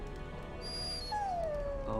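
A dog in the video game Dragon Age: Origins gives a drawn-out, falling whimper, loud and close, following a brief high whine, with faint game ambience underneath.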